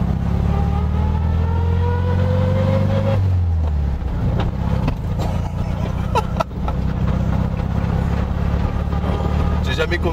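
An old car brought back on the road after 32 years of abandonment, its engine droning and rising in pitch as it pulls away, then settling into an uneven running rumble with clicks, while people talk inside.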